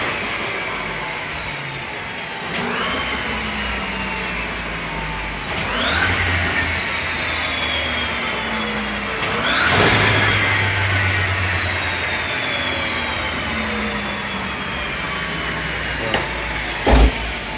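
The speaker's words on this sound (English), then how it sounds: "We now have a properly running all-wheel drive CRX." An all-wheel-drive Honda CRX engine revs sharply under throttle blips, rising and falling in several distinct bursts over a steady idle that is loud and near.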